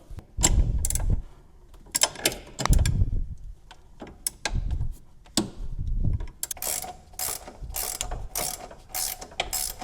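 Bolts being loosened and removed on a C5 Corvette during a lowering bolt install: repeated bursts of ratchet clicking, short and uneven, separated by pauses and light metallic handling, close and fairly loud.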